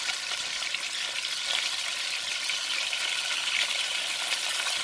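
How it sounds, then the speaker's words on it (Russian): Pork ham frying in oil over maximum heat, a dense, bright, continuous sizzle that holds steady and close throughout, with no voices. "Обжариваю его на максимальном нагреве."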